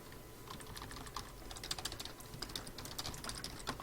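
Keys clatter on a computer keyboard while a code comment is edited, bursts of quick, close clicks that grow busier and louder toward the end, with no talking.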